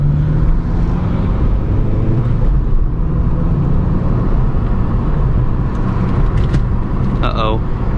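A 9th gen Honda Civic Si accelerates hard from 20 to 80 with traction control off, a steady loud engine drone rising in pitch through the pull, heard from inside the cabin with a brief high tire squeal near the end.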